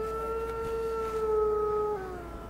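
Wolves howl in a recording, long sustained tones held for about two seconds before the pitch drops, fairly clear over a low background hiss.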